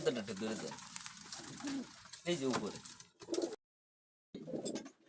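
Soft, low cooing of pigeons close by, repeated in short bursts with brief pauses and a sudden silent gap.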